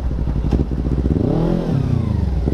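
A heavy Kawasaki Ninja motorcycle engine revs up and down close by, its loud throaty drone rising and falling in waves with some mechanical clatter, and no one speaks.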